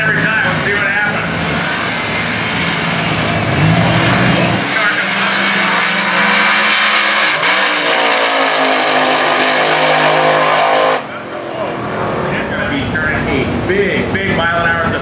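A drag racing car screams down the track in Super Gas eliminations at the New England Nationals, its engine roaring loud and sustained before dropping off abruptly, with a commentator's voice running over the noise throughout.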